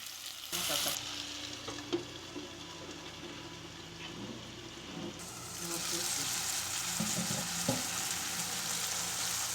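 Pork chops seasoned with a molcajete-ground garlic mojo fry in a pan, giving a steady crackling sizzle throughout with brief clinks and stirring bumps, the hiss growing brighter and louder toward the end.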